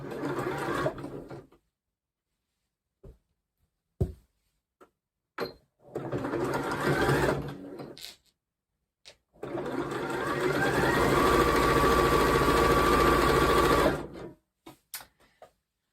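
Sewing machine stitching a make-up brush roll in several separate runs, each a loud steady whirr, the longest lasting about four seconds, broken by silences and short clicks and thumps.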